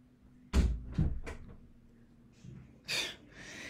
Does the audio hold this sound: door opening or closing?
yes